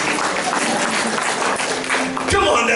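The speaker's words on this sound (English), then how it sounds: "That deserves a louder clap." A church congregation applauds loudly in a sustained burst of clapping, with voices mixed in.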